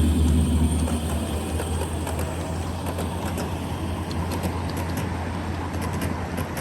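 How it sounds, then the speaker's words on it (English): A 7.5-inch gauge miniature train at a backyard-style railroad rumbling along with a steady low mechanical drone and faint clicking, continuous and fairly close, with no talking. "What a beautiful train."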